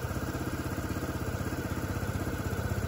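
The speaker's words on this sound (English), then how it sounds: "I'm just going to let the bike run for a few minutes and then we'll check that level again." An Aprilia SR GT 125 scooter engine idling after an oil and filter change, a steady close mechanical putter with an even rapid pulse and faint clatter throughout, no talking.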